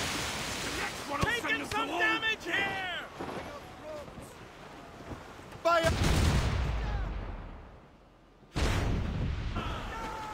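Naval cannon broadside from a sailing warship in Assassin's Creed Rogue, with a loud booming blast near six seconds and another near eight and a half, amid shouted crew voices and sea noise.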